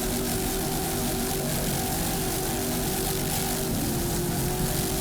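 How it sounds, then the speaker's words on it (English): Offshore racing powerboat at the 2002 Miami Super Boat Grand Prix off Miami Beach, its engines roaring in a steady, loud, continuous drone with shifting throttle pitch and heavy wind and water noise throughout. "Nice throttling there by Rich Wyatt from Boca Raton, Florida."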